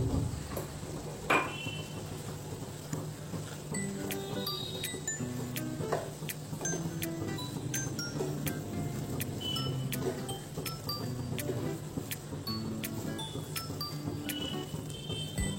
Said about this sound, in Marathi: खवा टाकून पुन्हा एकदा आपण हे छान परतून घेणार आहोत.